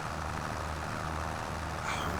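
A steady, rumbling tractor engine in Farming Simulator 25 drones continuously with a low, heavy hum, loud and close, slightly brightening near the end.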